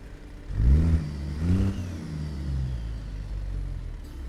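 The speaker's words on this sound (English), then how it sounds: "To be listening to the turbo spool up." A Detroit DD60 truck engine in American Truck Simulator, revving up with its turbo spooling, a deep rising engine note that swells twice and then holds a steady drone, close and alone.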